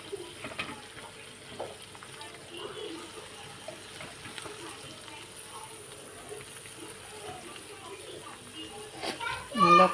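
Broad beans (goruchikkudu) frying in a pan and being stirred, a soft steady sizzle with occasional scrapes, while children play and chatter in the background.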